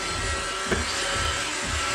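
A Roomba robot vacuum cleaner runs indoors in a living room with a steady close motor whir and brush hum, broken by a faint knock.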